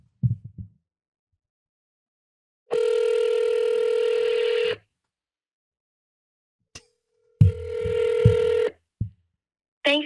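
A phone call to a psychic hotline: short dial tone bursts and a sustained ringback tone sound twice with silent gaps, followed by clicks, clear and close.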